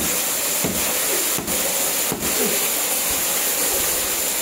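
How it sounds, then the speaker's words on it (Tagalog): A household water pump motor runs steadily in a rural Philippine home, a constant loud hiss-like drone with a few brief dips and faint clanks. "Maingay yung motor namin. Ay, yung water pump namin."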